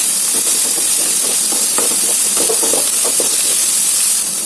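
Egg frying with onions, chillies and curry leaves on a high flame gives a loud, steady hiss and sizzle that fills the whole stretch with little variation.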